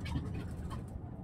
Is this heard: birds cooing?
yes